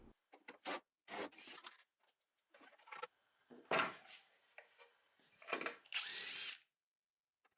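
A wooden mid-century modern buffet base is sanded in short, separate bursts of gritty, close-up rubbing with quiet pauses in between. The last stroke is the longest and loudest.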